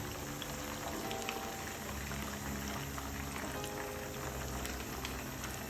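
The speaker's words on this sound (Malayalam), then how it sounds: "ഇത് നമുക്ക് നന്നായിട്ട് ഒന്ന് ഫ്രൈ ചെയ്തെടുക്കണം." Pre-cooked beef pieces fry for chilli beef in hot oil over a medium-to-high flame, a faint, steady bubbling sizzle with scattered crackles throughout and no voices.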